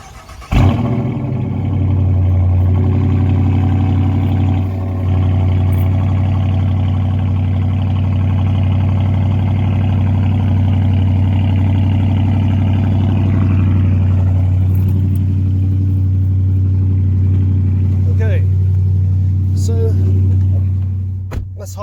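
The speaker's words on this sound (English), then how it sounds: "So here's cold start." A 2019 Dodge Charger R/T with a new aftermarket exhaust fires up from cold, flaring loudly at the start and then settling into a deep, steady rumbling idle that holds close and strong throughout.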